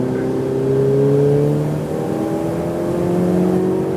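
A Ferrari 488 Pista's engine revs hard on a race track, a loud, steady rising drone with shifting pitch that carries on without pause close to the listener.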